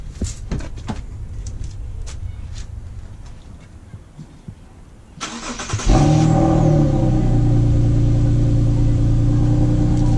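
An Infiniti Q50 with new headers cranks and catches after a few seconds of quiet clicking, then settles into a loud, steady idle with a deep, throaty tone.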